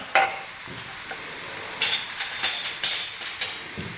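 Chilli chutney sautéing in hot oil on a low gas flame with golden fried onion, a faint sizzle under repeated scraping and clinking of a spoon stirring in the pan.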